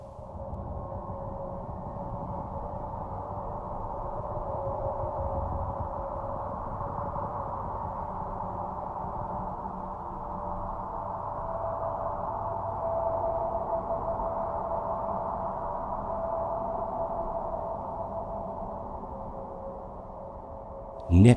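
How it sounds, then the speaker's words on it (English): Hissing, sighing radio emission from Jupiter's magnetic field, a steady low drone with a faint tonal band that persists unbroken for about twenty seconds, ending in a brief loud burst. "Jupiter's magnetic field hisses and sighs."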